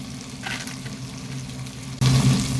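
Vegetables for okra sambar sizzle and sauté in a hot pan, a steady frying hiss that jumps much louder near the end as the pan is stirred or fresh ingredients hit the oil.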